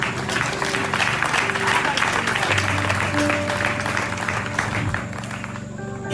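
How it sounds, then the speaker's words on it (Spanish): Audience applause at a church sermon, steady dense clapping from a crowd, with voices mixed in underneath. "Aplaude."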